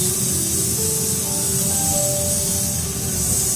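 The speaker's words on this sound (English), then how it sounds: "nice, even spray all over the face." Facial mist sprayed evenly over the face during a Yon-Ka facial treatment, a steady, close, continuous hiss that holds at an even level throughout with no talking.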